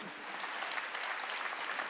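Church congregation clapping together during a Wednesday worship service, a dense, steady wash of many hands applauding close by for the whole stretch, with faint voices mixed underneath.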